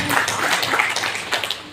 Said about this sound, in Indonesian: Mari sama-sama kita berikan tepuk tangan yang meriah untuk Malintang Pos